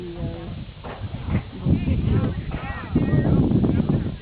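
Horse hooves clip-clopping under a rider while cows are worked at a judged cattle event, the steady hoofbeats sounding moderately close beneath people talking and cheering.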